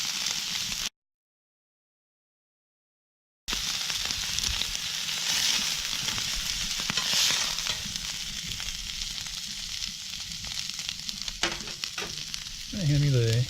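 Ribeye steaks sizzling on a Lone Star Grillz vertical offset grill, a steady loud frying hiss that runs throughout with a brief dropout, and scraping and clattering near the end as the steaks are flipped.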